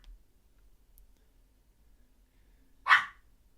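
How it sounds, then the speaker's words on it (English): A single sharp dog bark rings out near the end, loud and close against an otherwise quiet room, with nothing else heard. "dog's just got to be ruining my videos"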